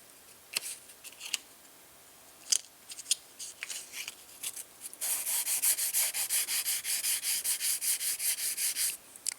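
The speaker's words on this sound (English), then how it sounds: "sand off these rough spots" Sandpaper rubbing rough edges on a eurorack module, first in scattered short strokes, then a steady run of rapid, even back-and-forth scrapes up close.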